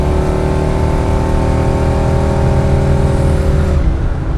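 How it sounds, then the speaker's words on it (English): A 1939 Chevy Master resto-mod street rod cruising at about 70 mph on the highway, heard from inside the cabin as a steady, fairly loud engine and road drone with no talking. "We're doing 70 mile an hour right now, and it's super quiet inside this car."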